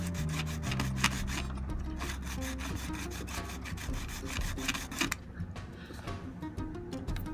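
Steady scraping and rasping as a tool gouges a flangeway into a model railway wing rail, a continuous gritty rubbing with rhythmic strokes, close and fairly quiet, with no voices.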